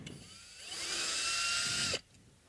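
A power drill drives a screw into a Music Man Tim Commerford StingRay bass, one steady whirring burst of about a second and a half, close and loud, that cuts off abruptly.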